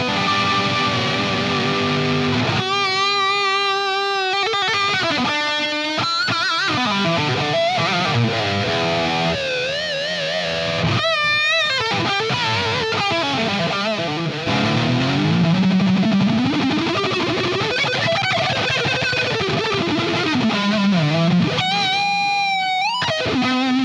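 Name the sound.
electric guitar solo through a delay pedal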